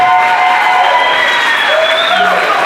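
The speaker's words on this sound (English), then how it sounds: "Give a big clap to our panelists." An audience at a meetup applauds its panelists, with continuous loud clapping mixed with crowd noise and a few raised voices or cheers over it.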